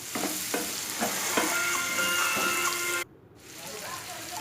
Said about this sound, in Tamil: நம்ம இப்போ இது எண்ணெயிலே வேகும்.